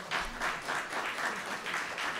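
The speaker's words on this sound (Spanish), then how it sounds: "Así que, antes de nada, un aplauso para María Viñas, por favor." Audience applause at a talk or panel, a steady wash of clapping with soft pulsing swells, moderately distant and alone, no voices over it.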